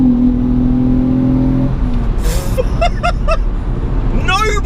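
A Mitsubishi FTO engine revs in second gear up to 5,000 RPM, a loud close rising whine and roar followed by quick blips, over a steady idle.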